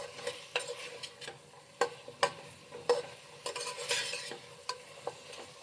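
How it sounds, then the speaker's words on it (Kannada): Vegetables for bisibelebath fry in oil while being stirred, producing a soft sizzle broken by frequent sharp scraping and tapping strokes of the spoon against the pan. "ಎಣ್ಣೆಲ್ಲ ಒಂದು ಸ್ವಲ್ಪ ಹೊತ್ತು ಫ್ರೈ ಮಾಡಿ."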